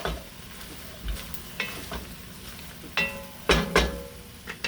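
Sausage and potatoes stirred in a cast iron Dutch oven, with repeated metallic scrapes and clunks of the utensil over a low sizzle, several louder knocks near the end, close and without talk.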